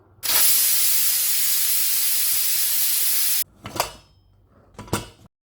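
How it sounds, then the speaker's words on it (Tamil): A pressure cooker on the stove cooking Chettinad mutton biryani lets off a loud, sustained steam hiss for about three seconds, then two shorter bursts of venting follow. "குக்கரை மூடிட்டு ஒரு 2 விசில் வச்சா போதும்."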